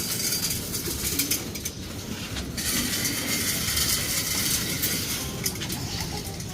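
A flock of racing pigeons feeding coos and murmurs continuously, close and dense, with scattered wing flutters and rustling over a steady noisy background.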